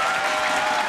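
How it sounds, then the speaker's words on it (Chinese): A studio audience at a televised talent show claps loudly and continuously, a dense, even wash of applause close to the microphone, with no voices over it. "掌声欢迎他"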